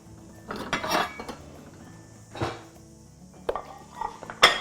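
Plates and crockery being handled in a home kitchen, with several separate clinks and clatters, a bright sharp knock near the end, and quiet gaps between them.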